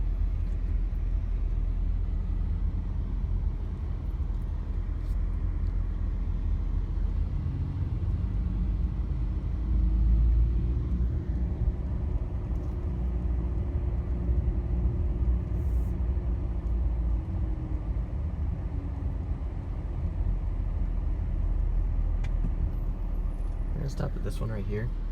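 Steady engine rumble and road noise from a car driving along residential no-outlet streets, continuous and close throughout.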